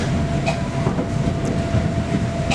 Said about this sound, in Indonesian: KRL dari arah Jakarta Kota ke Bekasi masuk jalur 4.